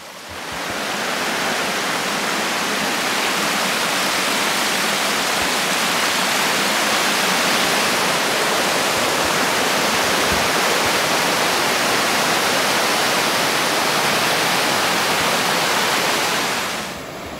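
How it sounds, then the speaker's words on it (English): A waterfall in the Cherokee Forest roars in a steady, loud, close rush of broadband white water that holds unbroken for the whole stretch, with no voices over it. "We can get out here and get some footage of this waterfall for you guys and keep trucking it."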